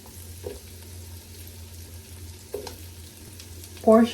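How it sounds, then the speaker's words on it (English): Onion, sweet pepper and tomato go into a hot frying pan for a Jamaican-style steamed fish with okra in coconut sauce, giving a low steady sizzle with a couple of soft drops and stirs and a brief clatter at the end. "Next we will be adding our onion"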